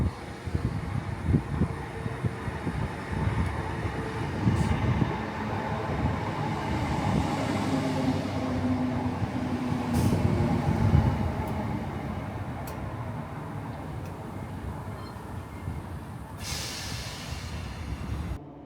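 A ScotRail train running, heard from inside as a continuous low rumble of wheels and carriage with occasional faint squeals and clanks, steady and fairly loud throughout with no talking.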